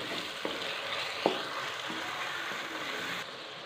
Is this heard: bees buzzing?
no